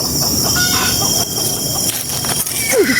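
A chicken close by clucks and crows loudly in a busy rural yard, ending with a rising crow call.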